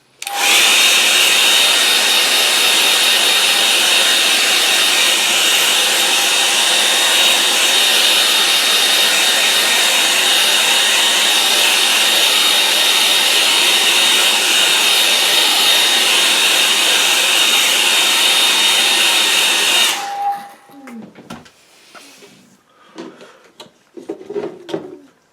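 Hairdryer drying a watercolour painting on stretched paper, a loud steady whooshing blow that runs for about twenty seconds, then cuts off abruptly, leaving a few faint handling sounds.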